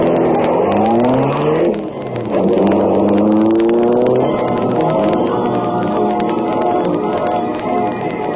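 Green Hornet's Black Beauty high-speed car roaring as a radio drama sound effect, engine revving up and shifting in rising sweeps, then holding a steady loud drone, close and continuous with no voices.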